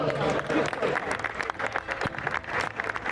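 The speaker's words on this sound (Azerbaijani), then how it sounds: "Məncə, ilk öncə özümüzü alqışlayaq." A room of people clapping together for about three seconds, a dense, even patter of applause at moderate distance after a football tournament final, with no talk over it.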